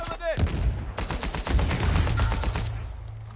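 A close video game grenade explosion bursts loudly, then sustained gunfire and battle noise roar in a dense, continuous wash.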